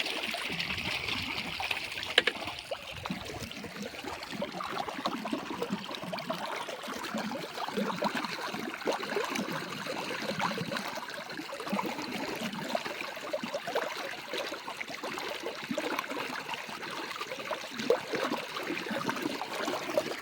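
Irrigation water running steadily into a farm field, a continuous near trickle and gurgle of flowing water with no talk over it.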